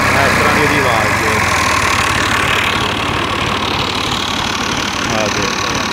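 An old 1996 Massey Ferguson 240 tractor idles with a steady, loud diesel chug, heard up close while someone talks over the engine.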